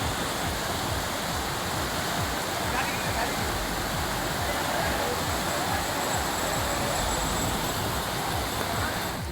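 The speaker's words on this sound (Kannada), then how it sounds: "ಉಗರಗೊಳ್ಳದಲ್ಲಿ ರಸ್ತೆಗಳಲ್ಲಿ ನೀರು ರಭಸಕ್ಕೆ ಹರಿತಾ ಇದ್ದು" Floodwater rushes forcefully over roads at Ugaragola, a loud, continuous, broadband roar with no breaks, steady and close throughout.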